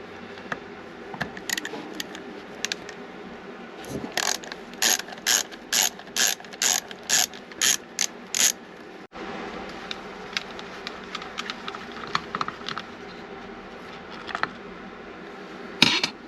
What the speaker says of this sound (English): we're just gonna start removing these 4 screws